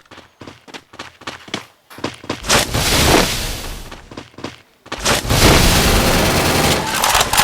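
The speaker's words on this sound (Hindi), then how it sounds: "fire short gun" Gunfire from a shotgun in the Free Fire video game, in two dense, loud volleys of rapid blasts, the first after some scattered shots and the second running to the end without pause.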